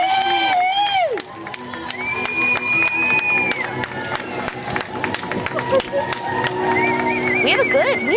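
A crowd at the start of an outdoor race in San Antonio cheers and claps steadily under a public-address voice and whistles, with a loud continuous roar from start to finish.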